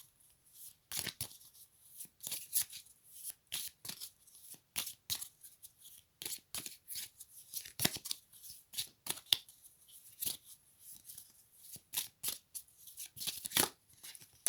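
Oracle cards being shuffled by hand: rapid, close riffling and slapping bursts repeat in quick rhythmic clusters through the whole clip, crisp and fairly loud against near silence.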